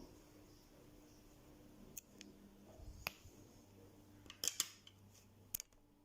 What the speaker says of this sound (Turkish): Şuraya ipimi kesiyorum.